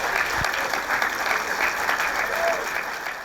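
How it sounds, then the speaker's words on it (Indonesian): Steady applause from a studio audience at a talk show, a dense even wash of clapping that holds for the whole stretch without a break. "Tepuk tangan dulu dong,"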